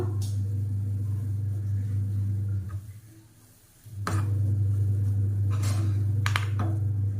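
Roasted white sesame being stirred into a poha (aval) laddu mixture in a pan: a steady low hum runs throughout, broken by a few sharp spoon scrapes and clinks against the pan.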